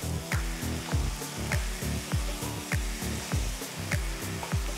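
Thick mutton curry masala sizzles steadily in a hot pan while being stirred, with regular scraping strokes of a spoon repeating about once per second, close and clear with no voices.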